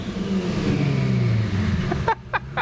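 Cheap Lamborghini car engine revving loudly close by, a steady throaty roar for about two seconds that cuts off abruptly, followed by a few short engine blips.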